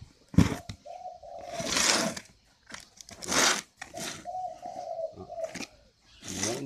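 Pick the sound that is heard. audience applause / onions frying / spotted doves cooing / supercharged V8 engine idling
spotted doves cooing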